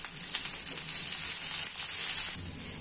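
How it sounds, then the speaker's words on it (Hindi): Finely chopped onion frying in oil with chili, ginger and garlic makes a soft, continuous sizzle with a crackling edge, fairly quiet and steady, and no voices over it. "अब इसमें डालेंगे 1 बारीक कटा हुआ प्याज। प्याज को भी फ्राई कर लेते हैं।"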